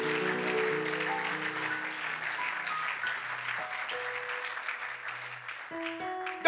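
A church congregation claps and cheers steadily for several seconds, a dense wash of applause with a few sustained keyboard chords playing underneath.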